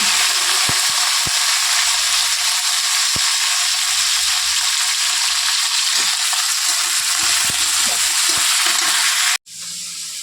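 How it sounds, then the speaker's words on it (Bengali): Cauliflower frying in hot oil for a vegetable dal, a dense continuous sizzle broken by a few sharp spatula clicks and scrapes before it cuts off abruptly near the end. "আগে কপিটা ভেজে নিই"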